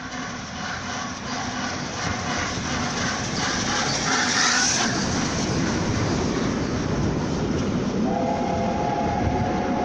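Steam locomotive Union of South Africa passing through Arbroath, a loud continuous rumble of engine and rolling wagons that holds steady throughout, with a horn-like tone rising near the end.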